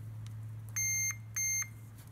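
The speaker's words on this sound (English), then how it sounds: "the meter will beep anytime you touch these together" Multimeter in continuity mode beeping as its probes touch during spark troubleshooting on a Honda Big Red ATC 200: two clear high electronic beeps, each about a third of a second, over a low steady hum.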